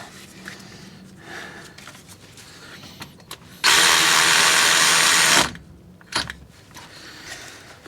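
A power tool on a 2004 GMC 3500 Duramax pickup cranks down a bolt in one loud, steady burst of under two seconds, standing out sharply over quiet shop background.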